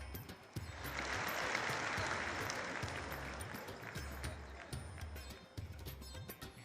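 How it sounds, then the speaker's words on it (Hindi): Applause at a large public gathering honouring women in Navsari, Gujarat: a soft, distant patter of many hands swelling early on, then thinning out, with low thumps and faint voices underneath. "एक बार जोरदार तालियां होनी चाहिए"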